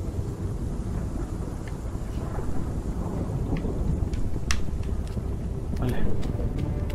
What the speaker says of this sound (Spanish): Ah, ok, sacó la tormenta.